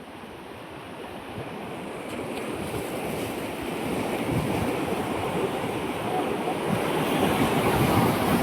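Ocean surf surges and crashes in a broad, building roar, growing louder toward the end, with wind buffeting the microphone.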